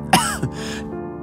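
A single short cough or throat-clearing burst from a person, close and fairly loud, followed by a quieter breathy catch and a low sustained tone underneath.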